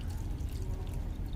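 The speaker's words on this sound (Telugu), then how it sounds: "ఇప్పుడైతే నేను ఫుల్గా వాటర్ పోస్తున్నాను." Water pouring steadily into an iron kadai while a hair remedy is prepared, a continuous close splashing gush with no talk.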